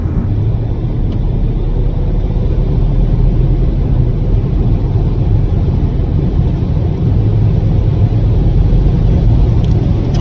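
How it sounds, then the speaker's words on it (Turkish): An Audi A4 2.0 TFSI with an S tronic gearbox accelerates hard through a bend on an open road, its engine a loud, steady, deep rumble heard from inside the car, with no talking. "Virajda gaza yüklendim."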